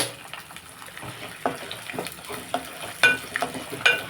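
Tempering ingredients for mustard tamarind rice fry in hot oil with a steady crackling sizzle, broken by sharp clinks and stirring scrapes of a spoon against the pan, close and fairly loud.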